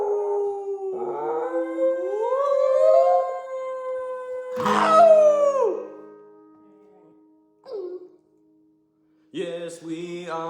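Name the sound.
dog howling along to singing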